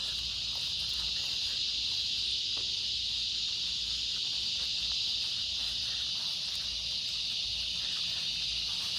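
Cicadas keep up a continuous, even high-pitched buzz that holds steady throughout without a break, over faint background noise.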